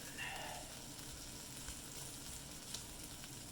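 A burger patty sizzles and fries steadily in a hot pan on a home stove, a continuous close hiss with no talking over it.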